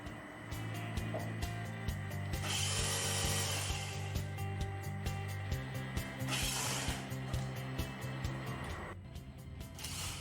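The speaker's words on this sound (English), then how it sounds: "The robot changes to a motorized screwdriver and removes the bolts securing the individual cells." A motorized screwdriver on a robotic arm unfastens bolts from individual battery cells, giving a steady whirring hum with bursts of brighter grinding noise over a sustained mechanical drone, with no talking.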